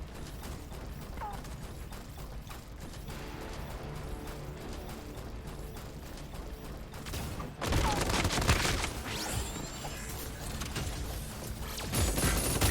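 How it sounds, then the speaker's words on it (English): Gunfire in Super Mecha Champions, mechanical whirring and clicking give way to a dense burst of rapid shots and clattering that continues loudly over the second half. "Shots heard."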